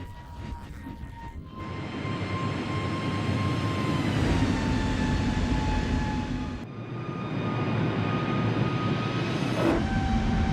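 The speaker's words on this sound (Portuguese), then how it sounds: "a aeronave taxiou em direção à pista e, por volta das 17h19, decolou" A TAM airliner moves toward the runway and takes off, its jet engines a loud, steady roar with rising whine tones that shift through the run, heard close and continuous with no voices.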